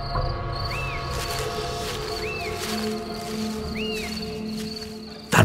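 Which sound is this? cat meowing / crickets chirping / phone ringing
crickets chirping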